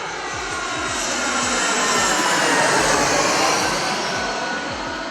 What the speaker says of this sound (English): I will hear an airplane that sounds just like this.